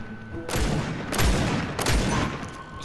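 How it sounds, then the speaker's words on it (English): Bursts of gunfire in Fortnite strike a wall, coming as three loud, dense volleys of sharp cracks in close succession, with no talk over them. "Shooting the wall."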